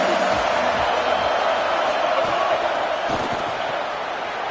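A football stadium crowd roars in a steady, loud wash of cheering and noise that fills the whole moment, with faint thumps underneath.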